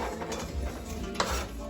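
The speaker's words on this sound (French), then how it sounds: "Faites revenir les oignons jusqu'à ce qu'ils deviennent translucides." Onions and garlic cooking in olive oil in a pot over low heat, soft frying hiss with stirring and utensil scrapes against the pot, quiet and close with no talk.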